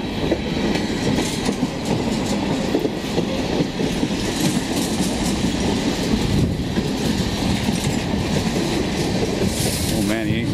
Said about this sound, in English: I'm sure the other one coming is a freight too, coming from down there